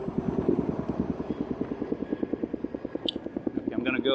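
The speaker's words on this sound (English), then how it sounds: "there's like a helicopter flying over me. It's like a carrier, cargo helicopter of some kind." A large cargo helicopter passes overhead, its rotor thudding in a steady, rapid low beat with a constant engine drone, loud and close throughout.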